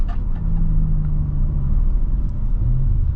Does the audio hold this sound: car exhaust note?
yes